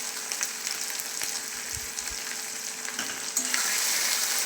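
Chicken frying with turmeric and stone-ground spice paste in a pan, a steady close sizzle with soft scraping strokes of stirring, growing slightly louder near the end.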